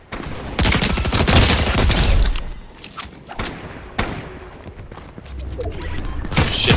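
Rapid bursts of gold pistol fire in Fortnite rattle through a dense, close, loud firefight, with sharp repeated cracks layered over steady game noise and a few heavy thumps near the end.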